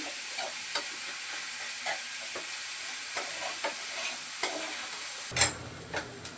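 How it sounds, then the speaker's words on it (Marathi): Paneer bhurji fries in a pan over medium heat with a soft, steady sizzle, broken by occasional spatula scrapes and taps, and a louder clatter near the end. "मिडियम गॅसवर चांगलं परतून घेते"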